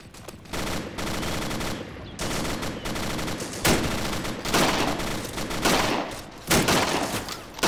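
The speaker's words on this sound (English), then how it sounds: "Set up the machine gun to hose that fucking hill." Bursts of mounted machine gun fire in a military video game, pushing toward Drozhino, hammering in repeated loud volleys with short pauses between them, close and dense.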